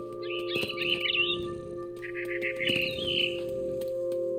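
A mother bird in What Remains of Edith Finch gives two clear bursts of bright chirping over a steady low hum, with no voices.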